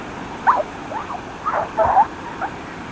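Squeaky sand on a beach in Ha Tinh, Vietnam, giving several short, high-pitched squeals like rubbing glass, in uneven bursts close by over quiet background.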